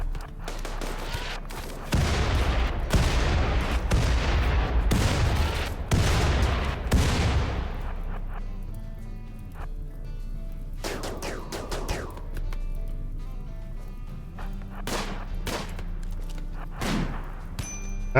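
Rapid bursts of gunfire from a RimWorld firefight, dense overlapping shots for several seconds, then scattered single cracks and thuds spaced apart, loud and with no talking.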